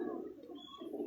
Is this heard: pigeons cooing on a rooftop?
yes